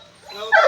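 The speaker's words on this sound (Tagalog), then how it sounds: "Itong lalaki ng aso." A big dog gives a short whimpering yip, close and fairly loud, in a yard as a storm approaches, with a voice murmuring faintly underneath.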